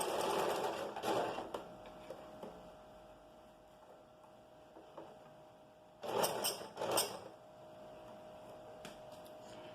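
A home sewing machine stitches a skirt waistband on an evasê skirt in two short bursts of quiet mechanical whirring and clicking, separated by a lull of near silence.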